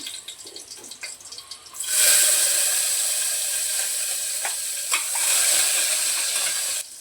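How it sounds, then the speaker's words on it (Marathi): Hot oil bursts into a loud, bright sizzle as cumin seeds hit it for a tempering, crackling steadily up close with a few sharp pops. "थोडंसं जिरं टाकते फोडणीमध्ये"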